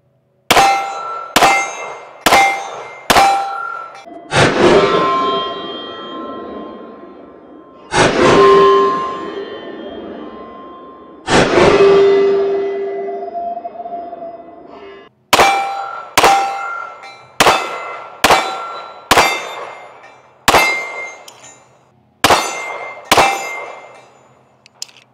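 Canik Rival S pistol rounds strike steel targets, each hit a sharp ringing clang. There are quick runs of evenly spaced hits at the start and end, and three slower strikes in the middle that ring out longer.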